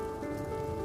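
Rain falls in a short, steady wash of patter on surfaces, constant and fairly loud, with no voices.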